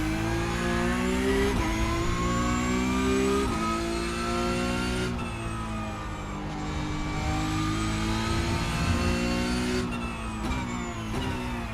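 A Porsche Cup race car in the iRacing sim revs hard through the gears, its engine pitch climbing and dropping with each shift over nearly twelve seconds of continuous, loud, close engine noise, with a hint of tire squeal.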